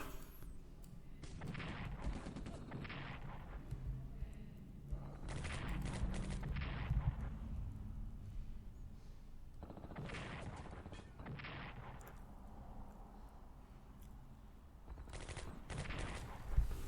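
Artillery and gunfire from the World War II strategy game Strategic Command 1942 come in repeated bursts of booms and crackling volleys, with steady rumbling battle noise between them and no speech.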